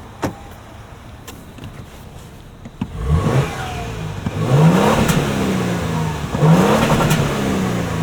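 2025 Toyota Tundra TRD Rally engine revving through its TRD exhaust, quiet idle then three loud rising revs starting around three seconds, each swelling and falling back, close by with no talking.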